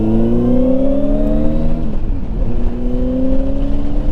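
A Honda 919 Hornet motorcycle engine pulls hard through the gears, its rising whine climbing, dipping briefly at a shift, then climbing again, loud and close with no talk.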